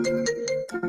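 A loud phone ringtone plays nearby, a bright electronic melody of short repeating tones in a quick pattern that lasts about a second, with no voices over it.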